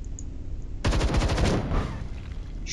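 Automatic gunfire in the turn-based sci-fi game Templar Battleforce: a loud, close burst of rapid shots starts abruptly after a quiet stretch and runs for about a second and a half, with no talking.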